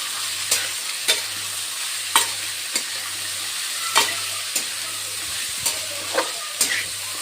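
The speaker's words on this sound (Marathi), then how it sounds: "म्हणून याला मिक्स करून घेऊया चांगल्या प्रकारे" Garlic fries in a pan under a constant sizzle while a spoon stirs it, giving sharp scraping knocks about once a second over a faint low hum, with no talking.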